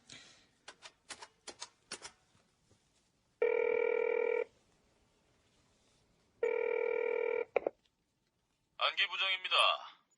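An office telephone rings in two long electronic bursts separated by a pause, preceded by a brisk patter of typewriter-like clicks and followed by a voice answering.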